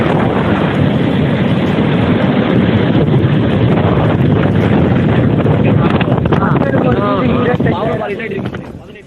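Fengal cyclone winds blow over a rough, churning sea near Loop Road at Pattinapakkam in Chennai, a loud, constant roar of gusting wind buffeting the microphone, fading slightly near the end.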